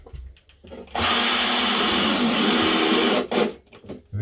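A power drill drives a screw into timber boxing around pipework, one steady loud whir lasting about two seconds, with light handling knocks just before and after.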